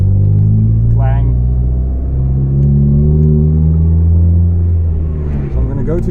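A Volvo 440 with a massive exhaust leak rattles while driving, giving a loud, steady engine rumble heard from inside the car throughout.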